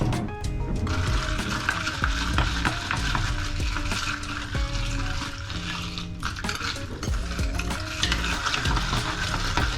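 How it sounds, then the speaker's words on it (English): A spoon stirs a spiced pomegranate drink with herbs, giving a continuous close swirl of liquid with light clinks against the glass, set against a dense, steady background. "I'm gonna get a spoon and we're gonna mix it up."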